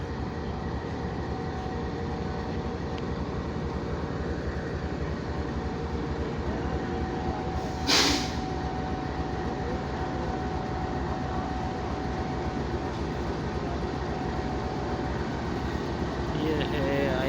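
The Jaffar Express rumbles steadily at Rohri railway station in Pakistan, a continuous low, droning engine and rail noise with a brief sharp hiss midway and a faint tonal hum throughout.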